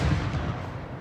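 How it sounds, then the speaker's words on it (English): A deep, rumbling boom fills the clip, a single heavy blast decaying slowly, loud and close. "that's a good firework to end it off."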